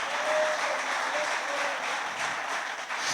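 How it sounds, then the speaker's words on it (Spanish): Congregation applauding during a church service, a steady wash of clapping that holds at an even level for a few seconds, with faint voices mixed in. "¿Cuántos damos un aplauso a Dios por las mujeres que son una bendición?"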